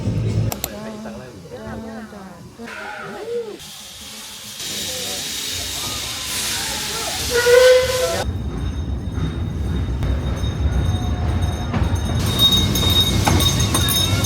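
Puffing Billy steam train near Melbourne hissing steam in a loud steady rush, with rail clatter and chuffing, while people talk over parts of it.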